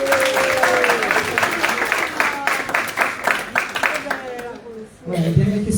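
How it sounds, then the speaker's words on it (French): A church hall audience at a December celebration evening claps steadily for a few seconds, dense hand claps under a voice talking over them, then the applause fades and a clap burst rises again near the end. "Un applaudissement pour eux"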